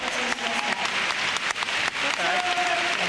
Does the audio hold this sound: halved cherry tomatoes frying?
no